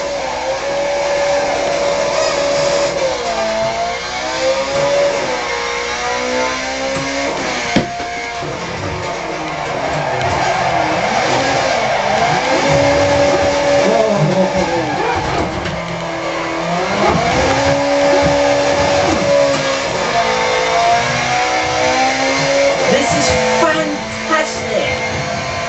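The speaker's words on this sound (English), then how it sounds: "Left foot on brake, build up the revs." A Ferrari 430 Scuderia V8 revs hard, climbing and falling in loud repeated sweeps as it accelerates through gears, close and aggressive throughout with brief lifts between pulls.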